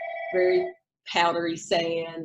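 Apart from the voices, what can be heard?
telephone ringing during interview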